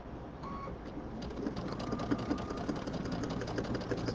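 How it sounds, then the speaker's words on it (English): A sewing machine runs steadily while top stitching a carry-all tote bag purse, producing a quiet, continuous mechanical hum and rapid ticking throughout, with no talking over it. "So I'm just top stitching."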